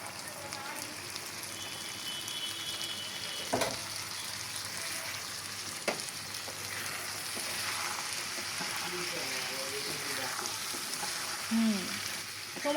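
Boiled chickpeas frying with spices and potatoes in a pan give a steady, moderate sizzle with scattered stirring clinks and a couple of sharp knocks, and no one speaks.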